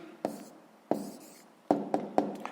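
A pen writes an answer on paper while solving a sixth-grade maths equation, giving a few short, close scratching strokes and taps spaced irregularly, with no talking.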